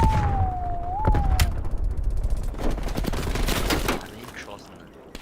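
Call of Duty Cold War/Warzone gunfire comes as rapid bursts of shots and mechanical clatter over low game rumble, with a rising whine early on and quieter stretches near the end.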